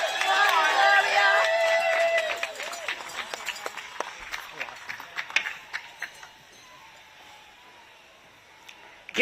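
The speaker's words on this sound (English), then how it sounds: "Give a big round of applause to all the survivors and all the victims and all the supporters today" Crowd at an outdoor Washington rally for Epstein survivors bursts into loud applause and cheering, which fades after about two seconds into scattered individual claps and faint murmuring.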